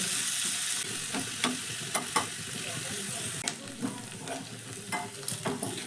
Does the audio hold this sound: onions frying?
yes